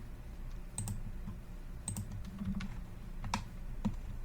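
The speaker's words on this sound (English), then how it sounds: "I flip with my spacebar" Computer keyboard spacebar and keys pressed during drafting work in Revit software, a few sharp distinct clicks spaced irregularly, close and fairly quiet, with no talk.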